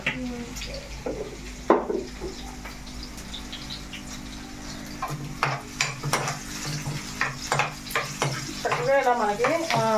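Onions fry over medium heat in a pan for chicken fry, a soft continuous sizzle broken by scraping stirs and clinks of a spoon against the pan, growing busier toward the end.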